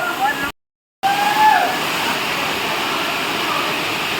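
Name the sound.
Ermayi waterfall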